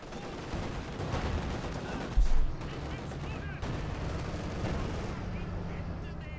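Stuka rocket artillery fires in Company of Heroes 2 as dense, continuous battle noise with gunfire and booms, including one louder thump partway through, while a commentator talks over it.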